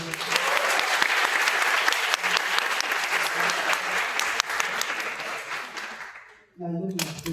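Sustained audience clapping fills a university panel discussion on autism, a dense, even wash of applause lasting over six seconds before cutting off abruptly, followed by a short burst of renewed sound.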